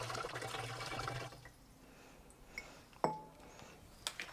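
Water pours into a garden sprayer with a short, faint liquid splash that tapers off, followed by a few quiet drips and light knocks, then a brief louder gurgle near the end.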